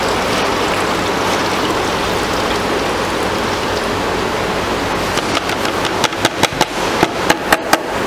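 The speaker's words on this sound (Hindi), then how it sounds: "देखिए 5 लीटर हमने पानी डाला इसके अंदर," Five litres of water pour into the bowl of a shaped pouch filling machine, a continuous rushing splash. A series of sharp metallic taps follows near the end.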